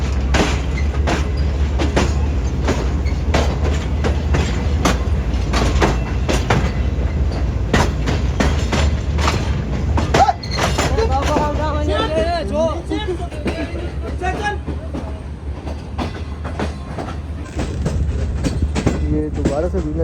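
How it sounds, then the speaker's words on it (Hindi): Green Line passenger train pulling out of Hyderabad Junction, a steady low rumble with rhythmic wheel clatter and brief squeals, surrounding chatter and background voices mixed in throughout. "12:27 पर ट्रेन हमारी फाइनल निकल रही है हैदराबाद जंक्शन रेलवे स्टेशन से"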